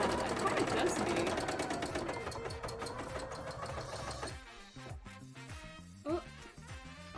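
A sewing machine stitches a bra in a fast, steady mechanical chatter for several seconds, then stops, leaving quieter clicks and a person talking.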